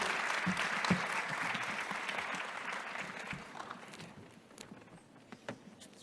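Panel audience bursts into warm indoor applause that fades toward the end, leaving a few scattered claps and faint room noise.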